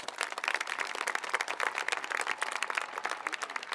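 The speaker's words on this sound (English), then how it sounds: "So let's give them a big round of applause." Audience at a high school commencement ceremony applauds, a thick and lively burst of many hands clapping at once, loud and sustained without any speech over it.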